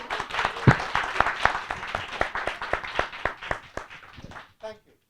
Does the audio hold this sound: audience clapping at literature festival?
yes